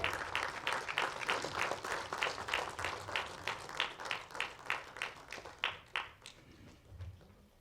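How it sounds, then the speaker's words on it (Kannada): A crowd gives loud, sustained applause with steady rhythmic clapping for several seconds, fading slightly near the end, with no speech over it. "ಜೋರಾದ ಚಪ್ಪಾಳೆ."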